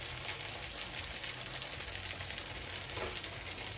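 Chorizo with paprika spice mix frying in a pan for Spanish-style chorizo beans and eggs, giving a steady, close sizzle and crackle that holds evenly throughout with no voices.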